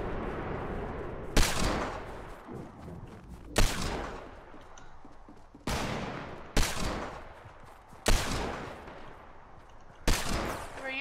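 Gunfire in the Fortnite video game during a fight: six sharp, loud shots at irregular intervals of about two seconds, each with a decaying tail over constant game background noise.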